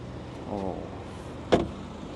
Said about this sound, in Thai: นี่เลยเปิดซันรูฟได้ด้วย